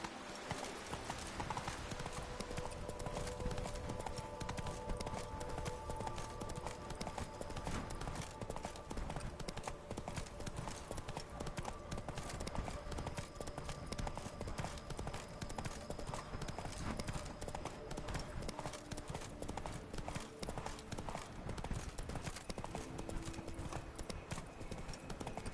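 Roach, Geralt's horse in Witcher 3, trots with a steady, even clip-clop of hooves throughout, close and continuous, with game music and some speech in the background.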